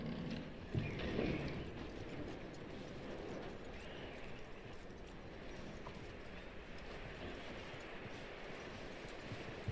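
Horse hooves clip-clop at a steady walking rhythm in Red Dead Redemption 2, close and continuous, with a brief snort or whinny early on over low outdoor game ambience.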